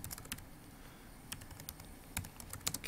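Quiet, irregular keystrokes on a computer keyboard come in short bursts separated by pauses, a soft close-up clatter over a low room hum.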